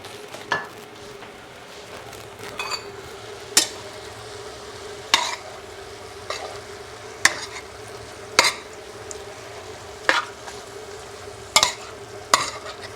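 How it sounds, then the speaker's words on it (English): Chicken with mushrooms and garlic frying in a pan, a steady low sizzle under repeated sharp scrapes and clinks of a utensil stirring against the pan every second or so. "when the chicken is cooked halfway, I will add the mushroom then. And let me put a little bit garlic there."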